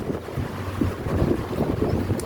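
Strong wind blowing outdoors buffets the microphone in a steady rumbling gust, moderately loud and continuous for a couple of seconds with no talk.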